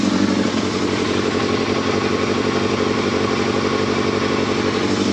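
A Yamaha Thundercat motorcycle engine idles steadily up close, a dense rapid clattering rumble with no talking.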